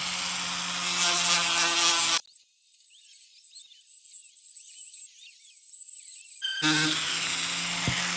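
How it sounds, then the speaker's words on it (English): A Dremel fitted with sandpaper sands a piece of Andamooka crystal opal, its high whining buzz running in a continuous stretch after a brief louder burst and before the grinding resumes, with a steady motor tone throughout. "Just because the sandpaper's on the Dremel, don't expect that to do all the work."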